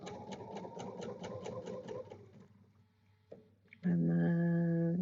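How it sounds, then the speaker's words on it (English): A sewing machine stitching a quilt cornerstone down, a fast steady mechanical chatter for about two seconds, then quiet, then a louder sustained whirring hum close by. "set your cornerstone right on top and stitch it down"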